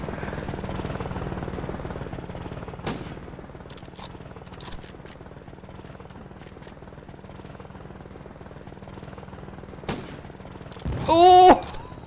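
A helicopter drones steadily through a multiplayer round of Operation Flashpoint: Cold War Crisis, with a few sharp gunshot-like cracks scattered over the rotor hum and a louder burst near the end.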